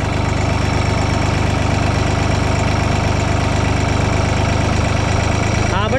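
A tractor's diesel engine with an inline fuel pump runs steadily and loudly up close, a dense droning idle with a knocking edge that holds throughout, with people talking over it.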